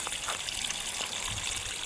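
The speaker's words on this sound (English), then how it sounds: "You probably hear the water in the background." Water trickles and splashes steadily in the background as a hose waters potato beds on an allotment in the evening.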